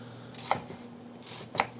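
Knife chopping half a large onion on a cutting board, two sharp distinct knocks about a second apart over a low steady hum, close and fairly quiet.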